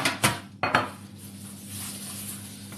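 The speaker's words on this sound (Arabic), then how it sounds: "هنجيب الصينية نحط فيها شوية زيت" A metal baking tray handled on a kitchen counter while olive oil is added, with two sharp clanks close together near the start followed by quiet room tone.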